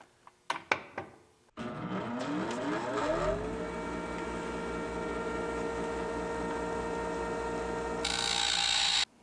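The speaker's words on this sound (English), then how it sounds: "I'm going to grind them down just a little bit so that they fit inside this weld here." An angle grinder spins up with a few knocks first, then grinds down metal LED light mounts, a loud sustained whine with a rising tone that settles into a steady high shriek, alone without talk.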